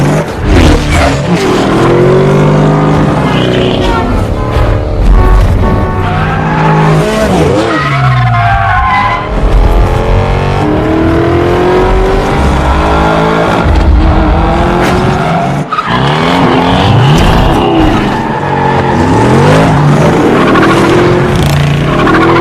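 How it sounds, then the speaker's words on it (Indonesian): A 1969 Ford Gran Torino races flat out in a street-racing film scene, engine roaring loud and close with sustained revving and squealing, skidding tires throughout. "Toby yang menggunakan mobil Ford Grand Torino 1969 itu gaspol dengan sangat tangguh"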